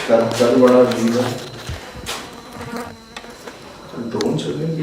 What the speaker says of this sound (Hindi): ये मक्खी की आवाज़ है। मक्खियों की आवाज़ है।